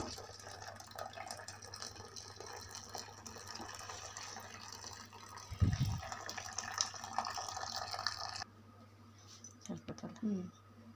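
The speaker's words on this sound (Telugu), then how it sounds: "వాటర్ అంతా కన్నగా వంపేసుకోవాలి." Water pours and trickles continuously as it is drained off cooked toor dal into a vessel, a steady splashing stream with a brief thud midway, while someone speaks quietly.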